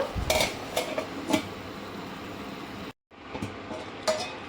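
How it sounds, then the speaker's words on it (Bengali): A metal lid clatters onto a cooking pot of boiling tomatoes for homemade tomato sauce, with a few sharp clanks and scrapes close by, a brief silent gap, then more light knocks. "আবারও আমি ঢাকনা দিয়ে দেব"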